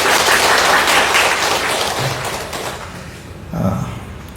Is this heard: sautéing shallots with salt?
no